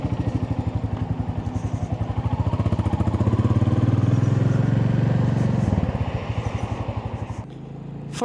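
A Royal Enfield Classic 350 motorcycle being ridden, its engine thumping steadily and up close, building in loudness through the middle before easing off and dropping to a lower, quieter tone near the end.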